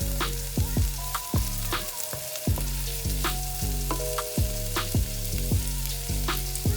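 Shallots and jalapenos sauté in a hot pan with a steady, close sizzle, while rhythmic background music with repeated bass notes plays over it throughout.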